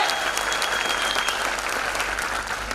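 An audience at a recognition program event in Indore gives loud, sustained applause, dense continuous clapping that fills the whole stretch.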